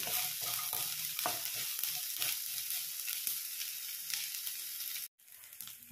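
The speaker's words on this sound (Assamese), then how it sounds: "এতিয়া ইয়াতে মই নহৰু কেইটা আৰু কেঁচা জলকীয়া কেইটা 2 মিনিটমান অলপ ল' ফ্লেমত ভাজি ল'ম" Garlic cloves and green chilies frying in a pan over a low flame, a steady close crackling sizzle with soft stirring scrapes, briefly cutting out near the end before resuming faintly.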